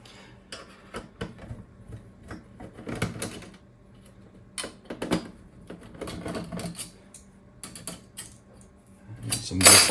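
Parts being pulled off an Atari Falcon 030 computer, a string of close metallic clicks, rattles and clatters in irregular bursts, with a louder clunk at the end.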